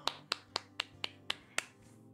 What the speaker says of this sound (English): Applause for that there ending scene.